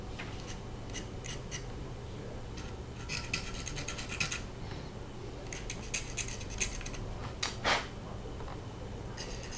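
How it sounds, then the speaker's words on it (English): A knife blade scrapes paint off a plastic model car part from a Hasegawa Lancia Stratos HF Stradale kit, producing close, quiet, irregular scratchy bursts and short rasping strokes against a soft background hum. "I'm going to use this knife. I'll scrape off a bit of paint."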